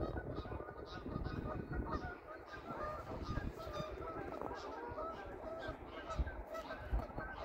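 Geese honk repeatedly from a flock by a river in Sweden, with overlapping calls of moderate loudness, a little distant, continuing throughout, while a person speaks quietly at times.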